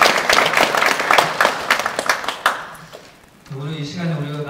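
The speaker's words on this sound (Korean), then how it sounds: "하나님께 영광의 박수 올려드리도록 하겠습니다." Church congregation clapping during a Sunday afternoon praise service, a loud burst of crowd applause that fades after about three seconds before a voice begins speaking.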